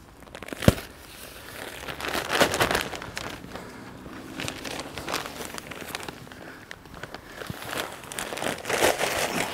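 A plastic bag of rose feeding mulch is cut open and crumpled in a garden, giving crinkling, rustling and crunching bursts over several seconds, up close with no speech.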